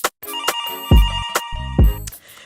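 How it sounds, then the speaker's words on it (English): A telephone bell rings in short repeated bursts with brief gaps, loud and close, with no one speaking. "Phone is ringing."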